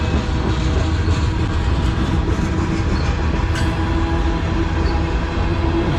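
A CN M385 manifest freight train hauled by locomotives 3044 and 3190 rolls past loudly and close by in Sarnia, Ontario, with a continuous rumble and wheel-on-rail clatter.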